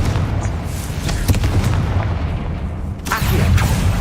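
A Confringo fire spell goes off in Hogwarts Legacy as a loud, dense burst with a heavy booming rumble that sustains throughout, and a sharp crack near the end.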